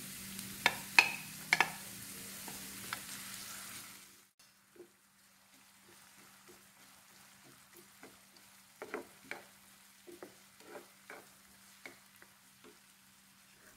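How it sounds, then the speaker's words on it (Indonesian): Sliced shallots sautéing in hot cooking oil for Balinese ayam betutu spice paste: a loud hiss and sizzle at first with spatula scrapes, fading to a quieter sizzle broken by scattered stirring clicks. "Kemudian tumis dulu bahan bumbu iris atau cincang kasarnya, masukkan bawang merahnya. Kemudian kita tumis"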